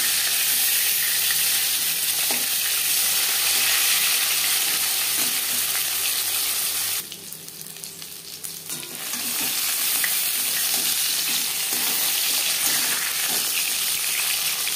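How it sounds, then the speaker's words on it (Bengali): Pieces of katla fish frying in a pan give a steady, loud sizzle and crackle that runs nearly throughout, dipping briefly partway through before rising again. "মাছ ভাজা হয়ে গেছে"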